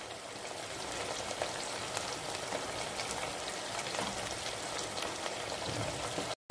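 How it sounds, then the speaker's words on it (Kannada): Mangalorean mackerel green masala (bangude pannopkari) simmering on a low flame, giving a steady, soft, even sizzle and bubbling hiss that carries on without a break, close and moderately quiet, with no talking. "ಇದು ಈಗ ಸಣ್ಣ ಉರಿಯಲ್ಲಿ ಒಂದು 5-6 ನಿಮಿಷಗಳ ತನಕ ಬೇಯಬೇಕು"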